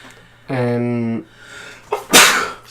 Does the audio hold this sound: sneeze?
yes